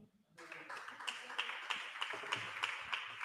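A church congregation applauds with steady, fairly quiet clapping that builds after a brief pause, a rhythmic patter of many hands in a reverberant room.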